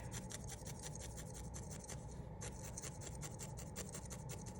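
A felting needle jabs repeatedly into wool on a small needle felted penguin keychain, making a rapid, even train of soft raspy pokes, close and quiet.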